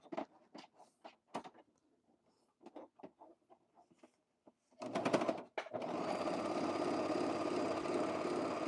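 A sewing machine stitching blazer fabric, its needles breaking, opens with scattered short bursts and pauses, then settles into a steady, loud continuous whirring run heard close up with no talk.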